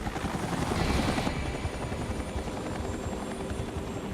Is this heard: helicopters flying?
yes